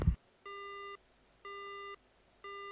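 After a phone call ends in the Spirit Hunter video game, three evenly spaced electronic beeps sound, each about half a second long, clear and isolated against near silence.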